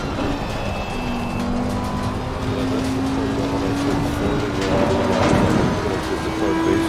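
Racing car engine in a racing simulator, droning steadily with rising and falling pitch through corners and brief tire squeal, loud and continuous with no talk over it.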